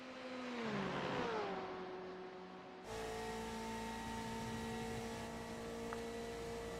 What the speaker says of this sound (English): What a gorgeous sounding car that is.